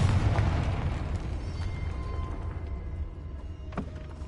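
A Confringo blasting spell goes off in Hogwarts Legacy inside a tomb, a deep rumbling boom that slowly decays, followed by faint rattling debris and a brief crack near the end, with no speech.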